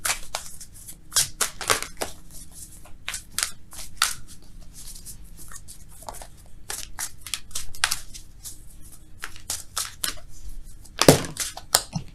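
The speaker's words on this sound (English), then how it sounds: "Let's shuffle for real, though, okay?" Shuffled tarot cards flick and snap in quick, irregular bursts up close, with a louder riffle near the end and no voices.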